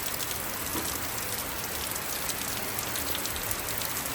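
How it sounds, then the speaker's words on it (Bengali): Heavy torrential rain pours down in a steady, dense roar that holds without a break throughout, with no voices over it. "কি সুন্দর বৃষ্টি, মুষলধারে।"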